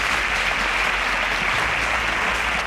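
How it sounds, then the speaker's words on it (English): Steady audience applause filling a studio during a quiz show, dense continuous clapping with no talk over it. "A round of applause for Marvel."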